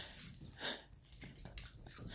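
A small puppy begging for a chip whimpers softly in faint, intermittent whines and snuffling breaths, close and quiet, with no talk.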